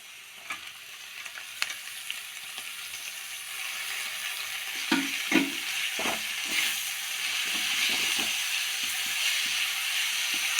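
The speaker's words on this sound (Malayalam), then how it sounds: "പിന്നെ കഴുകി വൃത്തിയാക്കി വെച്ച ചീരയിടാം" Washed spinach dropped into a hot pan with turmeric for a curd and spinach curry: a loud, continuous frying sizzle that swells over time, with a few stirring thumps midway.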